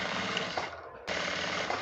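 A sewing machine stitching a half-inch seam on a cone-structure sleeve runs as a steady close whirr, stops for a brief moment near the middle, then starts again and carries on evenly.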